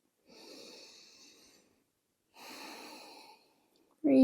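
Slow, deep breaths during beginner yoga practice, two long airy breaths a couple of seconds apart, close and soft with a slight wheezy edge, followed by the start of a voice at the end.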